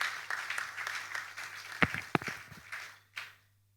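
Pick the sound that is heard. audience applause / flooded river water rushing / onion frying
audience applause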